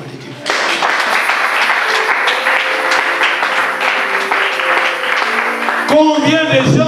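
A church congregation breaks into sustained applause mixed with cheering voices, a loud dense wash that starts suddenly and carries on for several seconds before giving way to voices.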